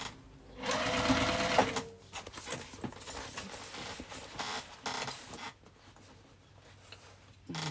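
A sewing machine stitches a tote bag in short bursts of fast mechanical whirring, several runs separated by brief pauses, close and clear.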